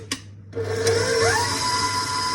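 An electric hand mixer beats sprinkle cake batter with eggs in a bowl: after a brief tap, the motor whirs up loudly and holds a steady high hum for the rest of the moment, with no talking.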